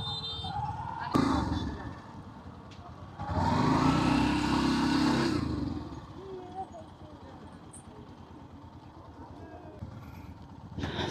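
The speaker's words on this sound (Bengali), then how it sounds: "এখানে এসে আমরা বাইকটা ঘোরানোর চেষ্টা করতেছি, এই সামনে অনেক জ্যাম" A motorcycle engine revs in a bout of a couple of seconds while the bike is turned around in a road traffic jam, amid steady street noise from nearby traffic.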